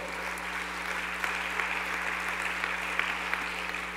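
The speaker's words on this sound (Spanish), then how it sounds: "Si va a aplaudir, aplaude el nombre del Señor." A church congregation claps steadily and continuously, a dense wash of applause filling the room with a few sharper claps standing out.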